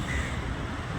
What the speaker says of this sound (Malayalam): അതിനു മുമ്പേ കാക്കകൾ ഇവിടെ വന്ന് സ്ഥാനം പിടിച്ചു.